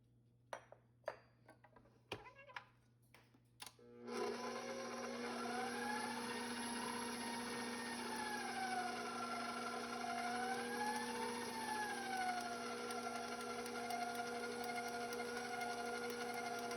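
An electric mixer whirs steadily and loudly in a bowl, combining cake batter with sifted dry ingredients for an apple fritter cake, its pitch wavering slightly, after a few quiet taps and clinks at the start.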